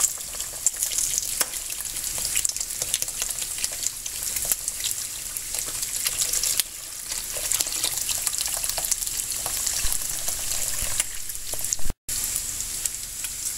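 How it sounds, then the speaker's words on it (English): Chicken stock pours into a pot of drained wild leeks, about a third of their cooking water left, giving a steady, close sizzling gush of liquid that runs throughout with a brief cutoff near the end. "I'm going to add my chicken stock."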